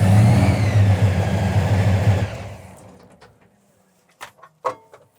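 A drag race car engine runs loud and steady for about two seconds, then cuts off and fades into near silence, followed by a few brief sharp knocks.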